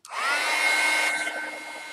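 A hair dryer switches on close by and blows steadily to dry alcohol-based color spray, a loud continuous whoosh that softens slightly toward the end.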